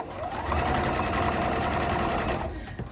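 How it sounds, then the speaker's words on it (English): A sewing machine stitching fabric scraps onto strips of calculator paper runs in one steady, loud whirring burst for a few seconds, then stops with a small clunk near the end. "So I'm going to start my sewing, and I'm going to stop."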